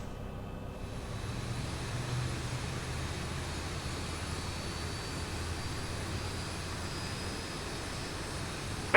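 Boeing 737 engine number 1 starting in the X-Plane 11 flight simulator, a steady whining jet roar with a faint rising tone, continuous and fairly close, no talk.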